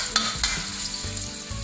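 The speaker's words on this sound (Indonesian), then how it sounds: "Oke, minyak sudah panas, kita masukkan bumbu yang sudah dihaluskan tadi." Ground spice paste for buntil frying in hot oil, a loud continuous sizzle with a couple of quick stirring scrapes, heard up close.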